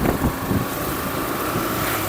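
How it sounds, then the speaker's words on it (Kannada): A scooter ridden on a road in Bengaluru gives a steady engine drone mixed with heavy wind rush, continuous and fairly loud for the whole stretch with no voices. "ಅಲ್ಲಿ ಸ್ಕೂಟಿ ತೊಗೊಂಡು ಬರ್ತಾ ಇದ್ದೇನೆ."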